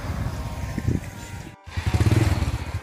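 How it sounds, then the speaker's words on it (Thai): Motorcycle being ridden along local roads near a riverside resort in Khemarat, Ubon Ratchathani, Thailand; a steady close engine drone with a brief dropout, then a pulsing rise, loud and alone without talk. "เจ้าของรีสอร์ทเขาก็ให้ยืมมอเตอร์ไซค์ไปขี่เล่น"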